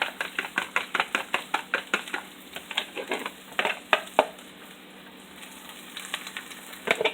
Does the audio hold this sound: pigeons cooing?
no